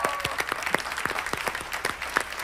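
A talk-show studio audience applauds steadily for a guest, a dense, even wash of many hands clapping throughout.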